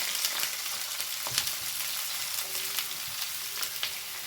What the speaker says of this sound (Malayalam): ഇതൊരു ബ്രൗൺ നിറ ആവുന്ന വരെ നമുക്കൊന്ന് വാട്ടിയെടുക്കണം